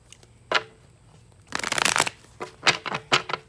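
Playing cards riffle and flutter in quick bursts, a short shuffle then a longer, louder one, followed by a few softer bridging snaps.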